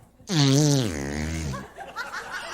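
A voice imitates a big, beer-drinking truck driver's fart: one long, loud, low buzzing blat with a wavering pitch that slides downward, then trails off into a few softer sputters.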